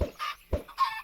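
Two short, close clucks from Minecraft chickens come in quick succession, each a clipped, throaty burst separated by brief silence.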